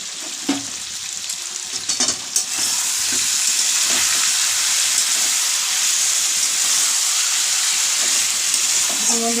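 Chicken curry with green chillies sizzles loudly in a pan while being sautéed, a dense steady hiss close by, with a few scraping stirs and clinks near the start and a brief voice at the beginning.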